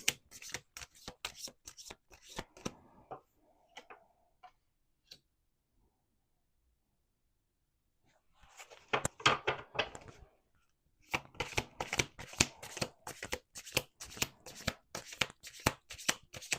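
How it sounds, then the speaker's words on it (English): Playing cards being shuffled close up, rapid riffling flutters in several bursts separated by quiet pauses and a few light taps. "Let's do one more shuffle."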